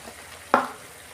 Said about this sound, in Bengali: এই মশলাটাকে আমি কষাবো ভালো করে